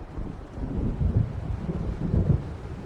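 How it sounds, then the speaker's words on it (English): Thunder rolls from an approaching storm in Alan Wake, low rumbling swells rising and fading twice over a bed of wind and rain, distant and heavy. "It seems there's a storm coming."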